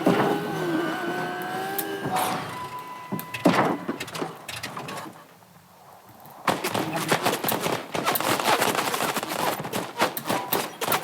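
A lock-on pistol fires in a video game, with rapid bursts of sharp shots over engine-like background noise, a brief lull in the middle, then dense repeated firing.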